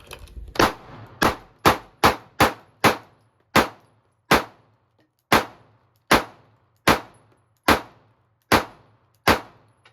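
Shots from a Springfield Armory Hellcat or Sig Sauer P365 compact pistol at a range, about a dozen sharp cracks at uneven intervals, each followed by a brief ringing decay, loud and close with no talking.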